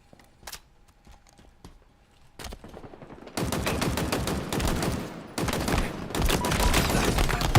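Machine gun fire in a Halo-style video game: a few isolated sharp shots over near quiet, then sustained, dense, loud automatic fire that pauses briefly and resumes, rattling close and continuous to the end.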